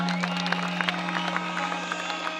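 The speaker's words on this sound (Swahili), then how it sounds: "Mujipigie makofi." Crowd at a political rally in Makindu, Makueni, Kenya, applauding in a dense, steady patter of many hands over a loud constant hum from the sound system.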